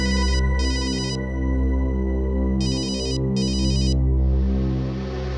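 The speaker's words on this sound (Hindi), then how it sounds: "किसका फोन है" An electronic phone ringtone chirps in two pairs of short bursts over a sustained musical drone, ending with a brief hiss.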